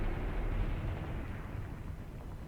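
A dull, rumbling artillery barrage in the war game Graviteam Tactics, a continuous low roar of distant explosions blending together without distinct individual blasts.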